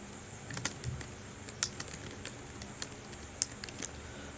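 Keys tapped on a computer keyboard while entering words in a text box, a faint, uneven patter of soft clicks in short bursts over a quiet hiss.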